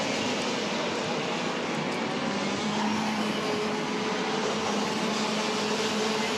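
Racing karts roar around the bumpy Sarno circuit during a WSK Super Master Series OK final. Their engines make a steady, dense, high-pitched drone with a sustained buzzing tone throughout, and no voices are heard.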